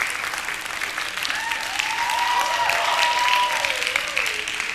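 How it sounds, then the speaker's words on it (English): A theatre audience applauds steadily and fairly loudly for several seconds, the dense clapping building a little toward the end with faint voices mixed in. "you don't know what you're applauding for yet"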